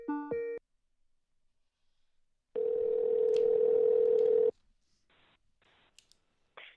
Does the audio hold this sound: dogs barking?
no